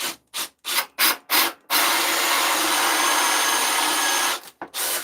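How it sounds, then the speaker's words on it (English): A drill fitted with a 7/8 hole saw bites into wood, starting with several short pulsed bursts, then a sustained loud grinding cut of a few seconds, and ending with two brief final bursts. "I'm going to take a 7/8 hole saw"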